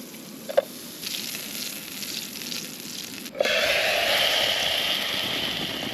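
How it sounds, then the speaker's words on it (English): Reindeer meat drops into hot reindeer tallow and frying swells into a loud, steady sizzle after a quieter opening hiss with a couple of clacks, no talking. "Time to cook my meat in this reindeer tallow"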